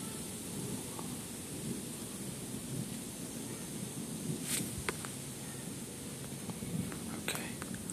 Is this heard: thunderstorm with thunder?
yes